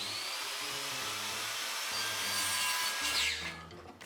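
A hand saw cuts through a wooden frame piece during a vehicle interior build, with rhythmic rasping strokes close by and a brief louder finishing stroke near the end, no talking.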